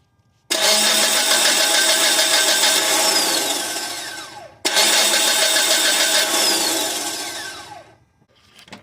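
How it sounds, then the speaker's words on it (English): A 2008 Mitsubishi Eclipse with an intermittent no-start fault cranks twice, each a loud, steady starter whir lasting about four seconds without catching, separated by a brief pause. "I'm going to crank the engine and see what the signal looks like."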